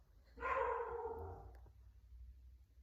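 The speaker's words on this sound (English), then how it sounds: "the dog is barking." A dog barking indoors: one faint, drawn-out bark or howl-like call at a distance, fading over about a second against a low background hum.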